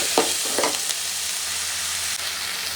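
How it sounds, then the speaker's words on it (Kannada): Chopped tomatoes sizzle and fry in a pan for paneer butter masala, a steady close crackle with a couple of soft stirring scrapes near the start and no talking. "ಇದಾದಮೇಲೆ ಕಟ್ ಮಾಡಿ ಇಟ್ಕೊಂಡಿರೋ ಟೊಮೆಟೊ ಸಾಫ್ಟ್ ಆಗೋತಂತ ಫ್ರೈ ಮಾಡ್ಕೊಬೇಕು"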